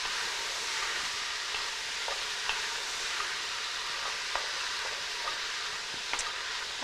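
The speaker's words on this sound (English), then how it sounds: "Give all this a nice stir." Vegetables stirred in a hot pan: a steady, even frying sizzle runs throughout, dotted with faint occasional clicks and scrapes, with no voices.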